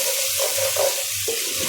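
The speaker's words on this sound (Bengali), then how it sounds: "চিংড়ি মাছটা অনেকটা ফ্রাই হয়ে গেছে, এখন দিয়ে দিই রসুন পেঁয়াজ একটু বেশি করে দিছি" Shrimp frying with garlic and onion in a pan gives off a steady, close hiss of sizzling oil, with soft stirring movements underneath.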